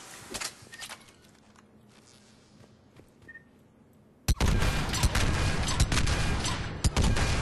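Saber rifle shots in Mass Effect 3 target practice. A few quieter single shots come first, then a sudden loud burst of rapid fire continues to the end.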